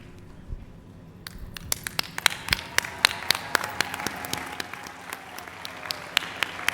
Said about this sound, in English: continue to clap and celebrate our students